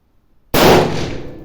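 A single loud rifle shot from a large-calibre K31 or Mosin-Nagant on a shooting range, an abrupt close crack after near silence, followed by a fading echoing rumble.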